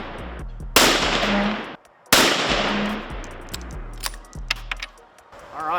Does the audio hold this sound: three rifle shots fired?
yes